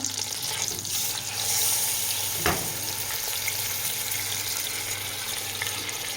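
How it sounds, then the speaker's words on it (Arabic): Chicken pieces frying in a hot pan for a Moroccan olive tagine, a steady close sizzle with a soft clatter around the middle and no talk. "هنا نديرو الدجاج تاعنا يتقلى"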